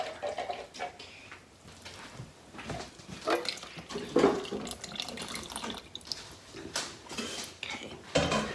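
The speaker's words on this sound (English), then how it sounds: "I'm going to get some more water in this and rinse this can out just a little bit." Water runs and splashes into an emptied can to rinse it out in a home kitchen, an irregular sloshing and trickling of moderate loudness that goes on throughout, with no talking.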